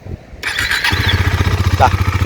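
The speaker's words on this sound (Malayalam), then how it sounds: "ഇനി നമുക്ക് ഇതിൻ്റെ സൈലൻസർ ഉണ്ടെന്ന് കേട്ട് നോക്കാം വണ്ടി ഓൺ ചെയ്തിട്ടുണ്ട്" A KTM Duke 250 motorcycle starts up and settles into a loud, steady single-cylinder idle, its exhaust throbbing rhythmically and close by, with a brief squeal in the middle.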